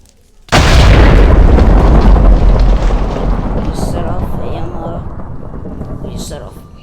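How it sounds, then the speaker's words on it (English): A thunderstorm set off by electric TNT in Minecraft, a sudden loud crack of thunder that breaks into a long rolling rumble and slowly fades into rain-like hiss. "We just set off a lightning storm."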